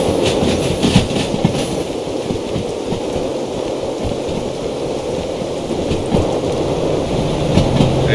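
A locomotive and railcars rumble along in the Derail Valley simulator game, a loud steady rolling drone with faint periodic clicks from the rails, continuous and without speech.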